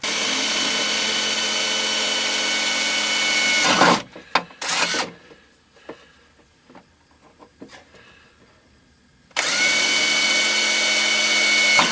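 A power drill bites into metal during a harness install, running in two loud sustained bursts split by a quieter gap filled with scattered clicks and knocks, all up close.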